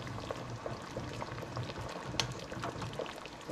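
Moose ribs boiling in a pot of water, a soft continuous bubbling simmer with small pops and gurgles, faint and close, with no talking.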